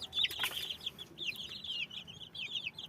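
Egg-laying hens keep up a busy chorus of clucks and chattering calls, with a brief flutter or rustle early on; nearby, steady, and free of speech.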